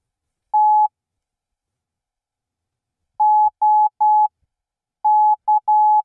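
Short steady beeping tones of Morse code from a CW Hotline kit, a long tone then a rapid cluster of brief beeps and dashes, clear and isolated with silence between groups.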